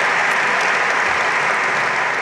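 An audience at the grand opening of a green hydrogen hub in Hamburg applauds in a continuous, even wash of clapping that fills the whole moment with no voice on top.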